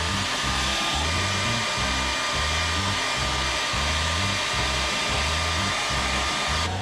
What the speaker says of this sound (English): Use a little hot gun,